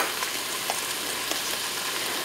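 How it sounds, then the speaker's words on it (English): Onions and garlic sauté in a pan with corned beef and potatoes for corned beef hash, giving a steady, soft, close sizzle with faint stirring and no talk. "now we have the onions and garlic all sauteing in here."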